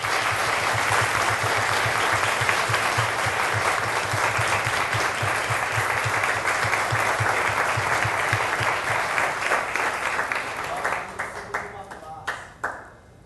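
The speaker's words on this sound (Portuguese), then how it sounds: "pedir uma salva de palmas para a greve nacional bancária." Sustained applause from a lecture audience at a Marx-Engels course, dense and steady for about ten seconds, then thinning into a few scattered claps near the end.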